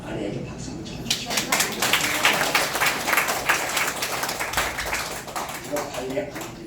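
A congregation at a seafarers' mission worship service claps together, a swelling burst of applause that rises after a moment and fades, with a voice starting to speak as it dies down.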